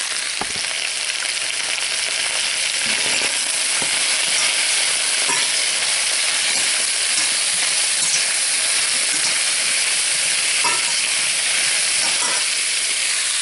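Leftover cauliflower fries in a hot pan with a loud, continuous crackling sizzle and steamy hiss, close up and unbroken, with an occasional faint clink.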